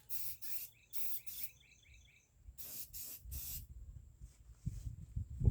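Short hissing bursts from a spray can of paint come in clusters, some single and some doubled, with low rumbling handling noises building toward the end.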